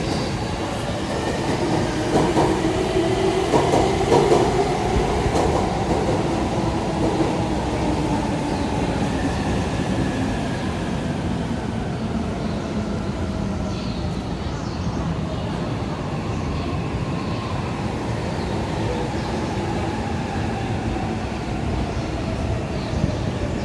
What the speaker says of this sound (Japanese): 電車が到着しております。